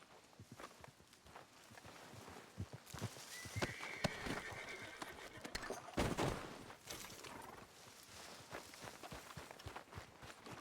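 A horse in the Red Dead Redemption 2 game world, with soft clip-clopping hooves and footsteps throughout and a whinny rising in the middle, all at moderate distance and fairly faint.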